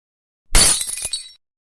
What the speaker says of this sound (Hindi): पूरा टैंकर चकनाचूर हो गया।